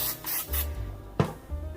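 Short hissing bursts of cooking spray misted into a well-used casserole dish, several quick pulses close up, followed by a sharper knock and a rubbing scrape.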